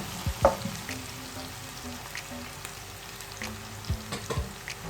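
Frying in a pan during preparation of a Bengali fish curry with winter beans and potatoes: a soft continuous sizzle with a few scattered scraping stirs and light knocks against the pan.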